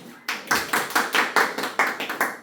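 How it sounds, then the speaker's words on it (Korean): A small class of high school students claps together at the end of a Korean academy lesson, about nine or ten sharp, rhythmic group claps in a steady beat, close and fairly loud with no talk. "박수."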